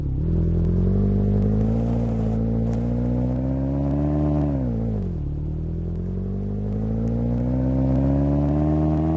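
A car in the Roblox game Brookhaven drives off with a steady, loud engine drone that rises and dips in pitch as it accelerates, eases off, then picks up again, heard alone throughout.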